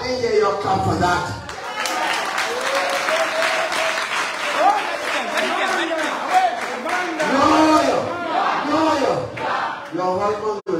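Crowd applause, sustained clapping mixed with cheers and shouts from a large gathering, with a voice speaking over it near the start and again at the end.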